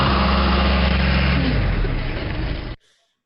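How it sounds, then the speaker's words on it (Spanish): A tractor engine drones loud and close with a low, steady rumble that rises slightly in pitch partway through, then cuts off abruptly, leaving near silence. "Muy bien, era el tractor."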